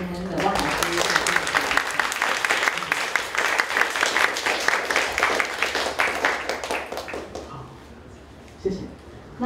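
A seated audience at a public talk gives sustained applause, dense close clapping for about seven seconds that then thins out and fades, with speech around the end.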